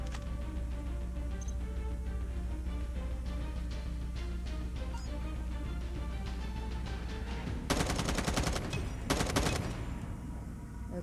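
Gunfire at targets in the Call of Duty Mobile video game plays over a steady game soundtrack, with two dense bursts of rapid shots near the end.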